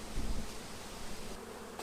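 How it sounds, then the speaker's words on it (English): Many honeybees buzz in a soft, constant drone around a hive nearby, a dense swarm hum with no voices. "there's a flurry of bees flying in and out"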